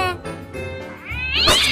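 A cat gives a couple of drawn-out meows that rise and strain toward the end, close and fairly loud, with faint indoor sounds in the background.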